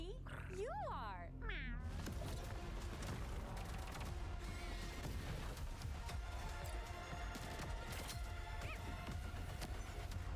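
A cat gives a couple of rising, drawn-out meows at the start, close and clear, then a loud, noisy crowd and clatter take over for the rest.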